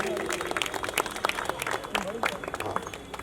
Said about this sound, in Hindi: जलील साहब के लिए ताली होनी चाहिए